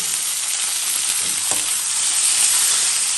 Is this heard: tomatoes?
yes